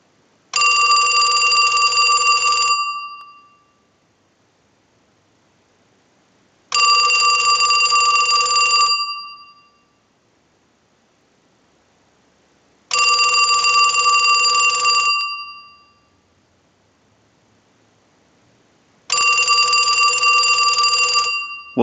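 A loud electric bell on a Western Electric 2554 wall telephone rings in four long bursts from a test ring cycle, each about two seconds, separated by several seconds of silence.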